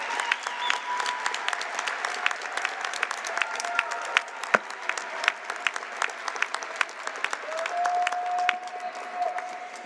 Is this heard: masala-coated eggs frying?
no